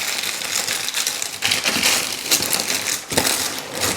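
Parchment paper crinkles and rustles as it is pressed into a macaron gift box, a close, continuous papery crackle with louder crunchy bursts throughout.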